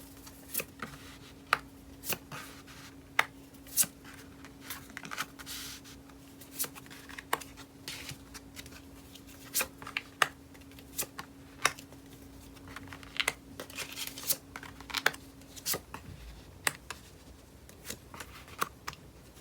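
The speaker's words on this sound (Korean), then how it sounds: "카드 배열하겠습니다." Tarot cards are handled and laid out, giving soft shuffling and a run of crisp, irregular taps and flicks as the cards are set down one by one. The sounds are quiet and close, and nobody speaks.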